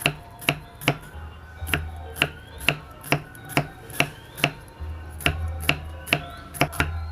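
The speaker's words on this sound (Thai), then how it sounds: "มะระที่เราจะหั่นลงไปนะคะ" A knife slices bitter melon (bitter gourd) on a cutting board for a Thai stir-fry with egg, about fourteen crisp, close chopping knocks at a fairly regular pace, with no talking.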